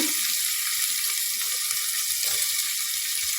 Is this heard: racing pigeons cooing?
no